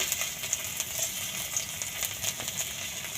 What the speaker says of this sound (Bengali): এই তেলের মধ্যেই প্রথমে দেব রসুন কুচি